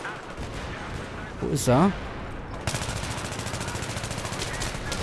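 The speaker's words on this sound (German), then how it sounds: "Ich habe doch auf den einen geschossen" Rapid automatic gunfire in a Battlefield 3 multiplayer match, a fast steady stream of close shots starting midway and continuing to the end, with someone speaking briefly beforehand.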